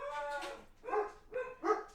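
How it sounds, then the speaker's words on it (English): Several dogs bark in quick bursts, four close yaps and woofs in about two seconds, moderately loud with no talk over them. "So, barking dogs now."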